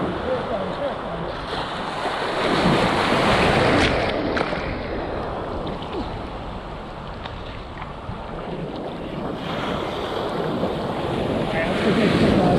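Ocean surf and wind wash around a GoPro on a pole out beyond the breaking waves, a loud steady rush with swells rising and falling and wind buffeting the mic.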